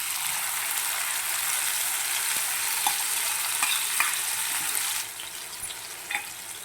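Ginger-garlic paste hits hot oil with carom seeds in a pan, giving a steady, loud sizzle and fry hiss throughout, with a few soft stirring clicks and a slight drop in intensity near the end.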